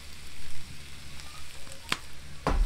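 Potatoes and sausage seasoned with rosemary and kosher salt fry on a Camp Chef griddle, giving a steady low sizzle with sharp scraping clatters near the end, close and alone with no talk.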